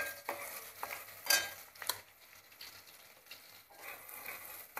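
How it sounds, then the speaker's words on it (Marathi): Onion frying in a pan, heard as a faint, low crackle with irregular stirring clinks and scrapes, a couple of sharper metallic taps standing out. "हा कांदा आहे तो आपण तळून घेऊया चांगला पहिल्यांदा."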